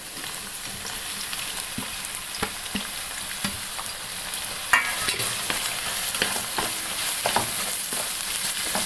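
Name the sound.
onions frying in hot sunflower oil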